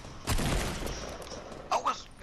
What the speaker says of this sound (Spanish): me están tirando balazos